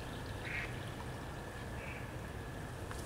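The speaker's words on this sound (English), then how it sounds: "And we've got some ducks coming in from the left." Ducks quack a few times from a distance at a carp-fishing lake, brief calls over steady water and outdoor background noise.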